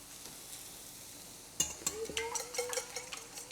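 Two cracked eggs are stirred in a bowl with a utensil, quiet at first, then a run of quick clinking taps and scrapes against the bowl, while something sizzles softly in a pan.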